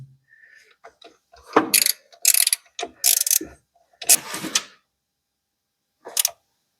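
Bolts are tightened evenly by hand on a Vespa LX 50 two-stroke scooter, with bursts of close ratcheting clicks in several short runs separated by pauses, and a final brief ratchet burst after a gap.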